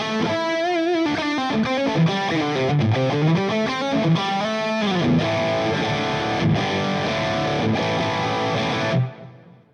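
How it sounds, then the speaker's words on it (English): Electric guitar played through a Boss Katana amp with overdrive and full stereo reverb and delay, a loud distorted melodic line with sustained notes and repeating echoes that ring out and fade at the end. "Now, the reason I'm doing this is because we're now going to get some full stereo reverb and delay."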